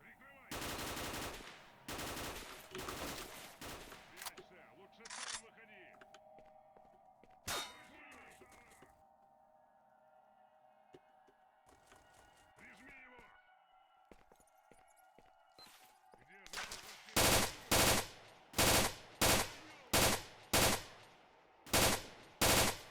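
Machine gun fire in the video game Priboi Story comes in sharp bursts at the start, then a quieter stretch with a humming tone and scattered clanks, and finally a run of loud, evenly spaced shots.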